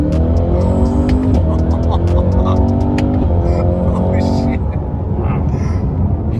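A Cadillac CT5-V Blackwing driven hard on the Laguna Seca track, its engine a loud, steady roar with shifting pitch throughout, heard from inside the car with a passenger's voice occasionally mixed in.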